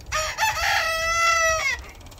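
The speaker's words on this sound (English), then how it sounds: "here's some of my chickens that are still in here" A rooster crows loudly and close inside a chicken coop holding silkie and Polish chickens, one long drawn-out call with soft clucking underneath.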